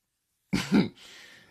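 A single sharp cough bursts out close by after silence, followed by a soft breathy hiss as it trails off.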